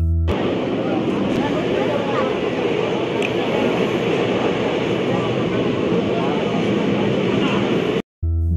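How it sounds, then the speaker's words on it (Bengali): A passenger train runs steadily on the rails near Gangpur station en route to Burdwan, a loud, continuous rumble and rattle with faint clicks, heard from on board until it cuts off abruptly near the end. "দেখতে দেখতে ট্রেন কিন্তু গাংপুর স্টেশন পেরিয়ে গেল।"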